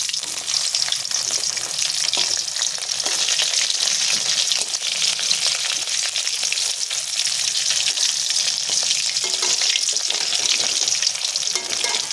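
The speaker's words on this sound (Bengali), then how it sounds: "আবারও একটু নেড়ে চেড়ে দেবো মাছগুলো।" Pieces of lata fish crackle loudly in a pan of hot oil, a steady close sizzle broken by occasional scraping and clatter as they are turned and stirred.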